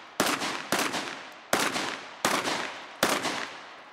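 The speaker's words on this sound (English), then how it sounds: "I just shoot everything." Five sharp gunshots crack out at practical shooting targets, close and loud, spaced roughly evenly apart with brief decaying tails and no talking.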